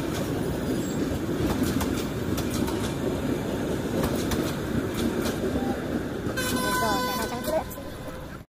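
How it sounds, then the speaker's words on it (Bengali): A train rolls past close by with a loud, steady rumble of wagons and wheels, including what seem to be first-class coaches. Sharp horn toots and wheel squeal come near the end before the sound cuts off. "ফাইনালি এখন হচ্ছে ট্রেনটা চলে যেতেছে"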